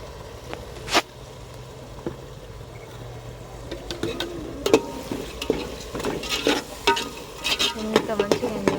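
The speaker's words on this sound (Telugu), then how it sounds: "మేమైతే టమాటాలు మంచిగా నూనెలే ఫ్రై చేస్తాం" Tomatoes frying in oil in a pan for a tamarind fish curry, a soft steady sizzle under intermittent stirring scrapes and clinks, with a few sharper clatters toward the end.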